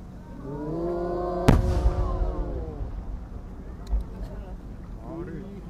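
A large 10-go warimono aerial shell bursts at a Japanese fireworks festival on the Akagawa with one sharp loud boom that rolls and crackles away, followed by a fainter second pop, while an announcer's voice carries over it.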